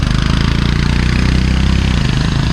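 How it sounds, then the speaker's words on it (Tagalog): A boat's stern-mounted engine runs steadily while the boat hauls sand on a river, a loud continuous low throb with no break and no talk over it. "Makina pala nasa huli, kaya pala malakas."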